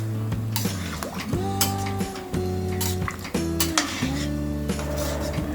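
A metal spoon stirs rice and water in a cooking pan for mint and soya pulao, with repeated clinks and scrapes against the pan in an uneven rhythm, close up and with no talk.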